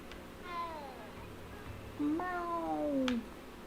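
A cat meowing in a Harry Potter video game, two drawn-out, falling meows about a second apart, the second louder and longer, clear over quiet game ambience.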